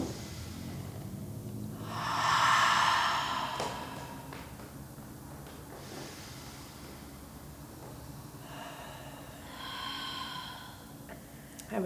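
Deep cleansing yoga breaths, close and breathy, with a long audible inhale and exhale swelling then fading, followed by another softer breath cycle, with no speech over them.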